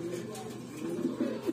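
A pair of red checker homer pigeons cooing softly and repeatedly at close range in a low, throaty rolling rhythm.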